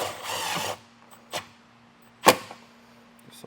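A power drill drives a self-tapping screw into a vehicle body to ground a trailer wiring kit, a steady whirring burst at the start followed by a few short sharp clicks and taps.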